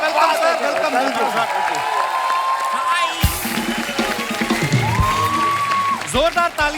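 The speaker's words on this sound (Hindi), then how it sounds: "जोरदार तालियां हमारे मेहमानों के लिए।" A studio audience on The Kapil Sharma Show applauds the guests, dense sustained clapping and cheering heard throughout alongside musical tones and talk.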